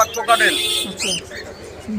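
Baby lovebirds at a bird market chirp in quick, high-pitched cheeps, close by and fairly loud, with a voice talking briefly alongside.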